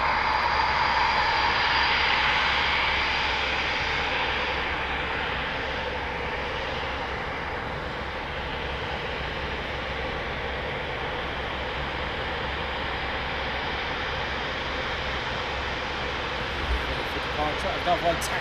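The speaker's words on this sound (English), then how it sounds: "Another one taxiing out now." Eurofighter Typhoon jet taxiing at RAF Coningsby, a steady broadband engine roar and whine holding for the whole stretch, fairly loud and even, with people talking nearby.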